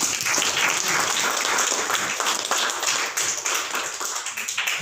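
A church congregation claps together in a dense, steady wash of applause that carries on evenly for several seconds, loud and close.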